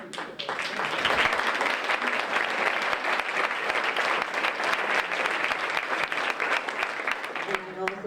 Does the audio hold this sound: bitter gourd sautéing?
no